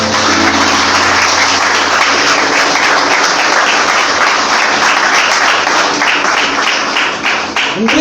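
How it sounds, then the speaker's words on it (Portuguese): Loud, sustained audience applause in a church service, a thick wash of many clapping hands that holds steady and tapers slightly near the end. "Será que vale um forte aplauso para o Senhor Jesus?"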